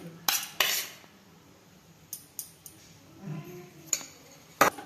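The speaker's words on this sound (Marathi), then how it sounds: "आता अजून 1 मी चमचा तूप घालते याच्यामध्ये आणि परत हलवते।" Besan roasting in ghee in a pan for ladoos, with spoon clinks and scrapes against the metal pan at irregular intervals over a faint sizzle.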